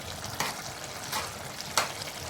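A bean and tomato curry with green chillies and fresh coriander being stirred in a hot pan, a soft continuous sizzle with three distinct scraping strokes of the spoon, close and fairly quiet, with no talking.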